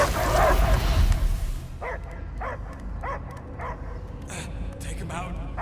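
A dog barks repeatedly in the Guardians of the Galaxy video game, a steady series of short barks and yips about every half second over a dense rumbling game soundscape.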